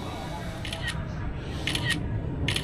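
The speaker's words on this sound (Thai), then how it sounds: "โอ้โหลั่นชัตเตอร์แชะแชะแชะเลยนะครับทุกคน" A camera shutter clicks in quick repeated bursts at a Dreamworld amusement park, sharp bright snaps in pairs and triples, over steady crowd murmur and background noise.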